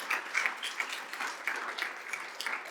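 A church congregation claps in praise to God during a Spanish-language sermon, with dense, steady applause running the whole time at moderate loudness and no speech over it.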